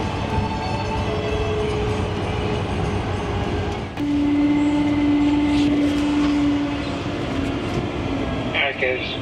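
A Disney tram rolls along with a steady rumble and mechanical whine, a sustained tone rising partway through, while a recorded announcement plays over it.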